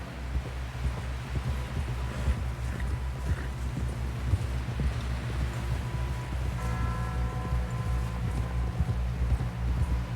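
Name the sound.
horse galloping hooves, from a video game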